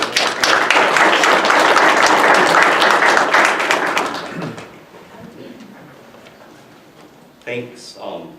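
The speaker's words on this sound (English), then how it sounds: "let's give a little applause for her." Audience applause at a February 2018 forum on waterbody and waterway delineation and regulation, dense clapping for about four seconds that fades out, followed by a few quiet taps and a nearby voice.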